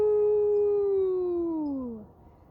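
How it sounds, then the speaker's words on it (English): A single long, high-pitched howl at night, clear and fairly close, holding a steady tone and then sliding downward before fading out, with no talking. "A new noise startled them, a high-pitched howling"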